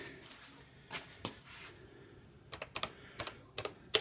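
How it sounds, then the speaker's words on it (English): Keys clack on a Canon Typestar 2 portable electronic typewriter in short separate taps, a couple of early strokes, then a quicker cluster of crisp clicks near the end, close and fairly quiet with no talk. "And then I'm gonna type in"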